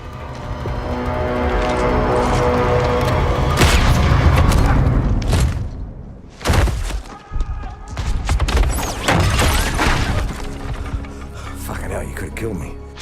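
Turret gunfire and explosions in the video game Battlefield 1 make heavy booming blasts and rapid firing bursts over a dense battle din, with loud thuds and crashes and shouting voices mixed in.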